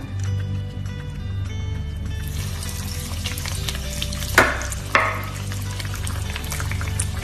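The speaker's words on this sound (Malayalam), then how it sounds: "ഇനി ഇതിലോട്ട് ഈ തയ്യാറാക്കി വെച്ചിരിക്കുന്ന ബ്രെഡ് ഓരോന്നായിട്ട് ഇട്ട് മുരിച്ചെടുക്കാം." Egg-dipped bread pockets sizzle in hot oil, a steady close frying hiss with two sharp splashy bursts as pieces drop in, then continuous crackle.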